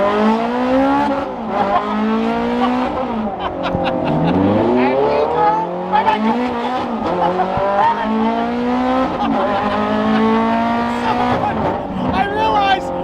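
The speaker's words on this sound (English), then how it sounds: "I just love listening to the sound of Ferrari." A Ferrari supercar engine revs and shifts on the road, rising and falling through gears in repeated sweeps, loud and close from inside the car.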